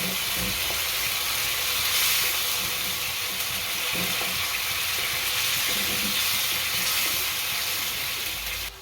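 Tomato gravy frying in a pan for a Gujarati peanut bhajiya curry, a steady dense sizzle held at even loudness throughout, with faint stirring clinks and no talking.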